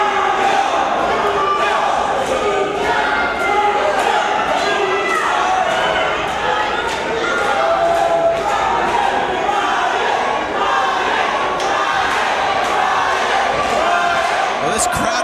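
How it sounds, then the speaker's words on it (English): A wrestling crowd at a Texas Championship triple threat match cheers and chants, a loud, sustained roar with rhythmic claps and occasional ring thuds throughout. "this crowd is electric"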